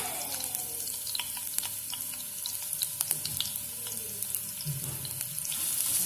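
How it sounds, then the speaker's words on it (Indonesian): Chopped shallots fry in hot oil in a pan, a steady crackling sizzle with scattered pops and light stirring scrapes throughout, no voices. "kalau sudah minyaknya panas, masukkan bawang merah yang sudah dirajang"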